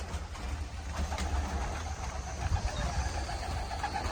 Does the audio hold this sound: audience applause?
no